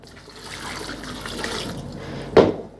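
Water is poured into a cooking pot of beef karahi, giving a soft continuous splashing that builds gradually and ends in a sharp louder gush near the finish.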